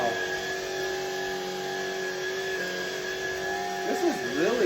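Shark cordless pet vacuum cleaner hums steadily up close, a constant motor drone with airy hiss, and a brief sliding tonal sound rises over it near the end.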